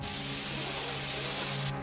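A cartoon spray can labeled as smog in a can lets out one continuous loud hiss that holds steady for nearly two seconds before cutting off abruptly, with no talking over it.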